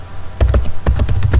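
Typing on a computer keyboard, a quick run of close, crisp key clicks in two short bursts with a brief pause between, no voices.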